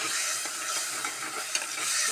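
Steady sizzling from a hot pan as food is stirred, a continuous hissing crackle with occasional scrapes and no voices.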